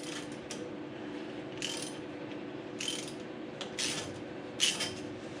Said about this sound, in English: this is a 42-piece socket wrench set